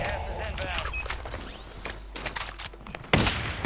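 Gunfire in the Warzone 3 video game, a spread of sharp shots and thuds scattered through a busy mix with a loud blast near the end, while players talk over it.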